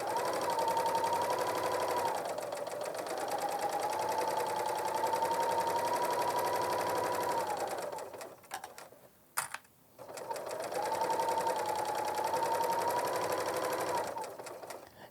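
A 4-thread overlock serger stitches an overedge seam along a fabric edge, running in a steady, loud whirring hum for several seconds, pausing briefly, then starting again at the same even pace.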